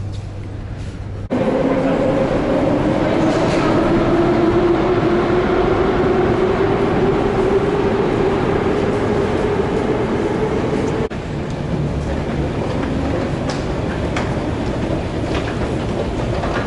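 A Moscow metro train rolls near Komsomolskaya station with a loud, steady rumble and a rising motor whine as it accelerates, then clatters on at constant speed.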